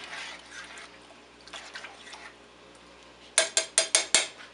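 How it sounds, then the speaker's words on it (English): Chili being stirred in a pot, a soft wet churning at first, then five quick, evenly spaced metallic clanks of the spoon against the pot, close and loud. "Mix that around. Starting to become the chili."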